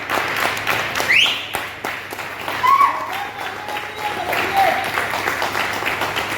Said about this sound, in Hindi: राहुल शर्मा सर का तालियां बजती रहनी चाहिए दोस्तों।